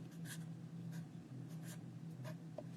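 Pencil writing on paper during drawing, a series of faint, brief scratchy strokes in irregular bursts over a low steady hum, quiet and close.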